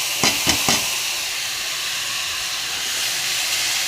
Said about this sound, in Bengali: আমি এখন পাতাটাও দিয়ে ভালো করে কষিয়ে নেব।